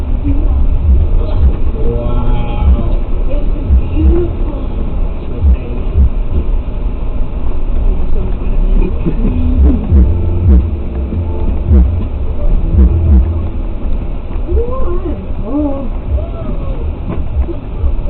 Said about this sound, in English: we had a train going across this thing.